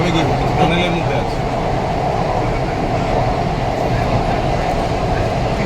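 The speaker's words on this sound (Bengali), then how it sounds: "এই ইস্ট ওয়েস্ট মেট্রোটি প্রথম মেট্রো যেটি ভারতের প্রথম নদীর তলা দিয়ে গিয়েছে" An East West Metro train in Kolkata runs through the tunnel beneath the Ganges, giving a loud, steady rumble and roar from inside the carriage, with a voice faintly under the noise.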